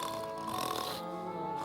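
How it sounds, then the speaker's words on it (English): A woodchuck snores in a courtroom, a steady, droning rasp that runs unbroken and fairly quiet throughout. "the woodchuck can help snoring through these court proceedings"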